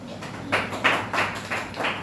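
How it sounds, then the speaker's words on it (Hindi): Students in a polity lecture hall clap slowly and unevenly, five or so separate claps spaced about a third of a second apart, fairly close, with a faint room hum beneath. "अरे तो इसमें ताली बजाने क्या बात है?"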